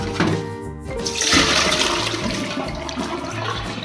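Potato soaking water rushes down a kitchen sink drain, a loud, steady gurgling swirl that lasts throughout, up close and with no talking.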